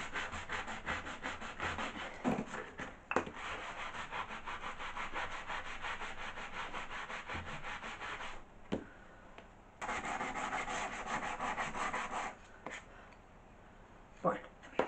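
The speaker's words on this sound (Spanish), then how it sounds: "Así que tengo que lijar hasta quitar estos restos" Close, rhythmic scratchy strokes of sandpaper rubbed by hand over old wooden furniture to remove blue paint residue, in long bursts with brief pauses and a couple of knocks between.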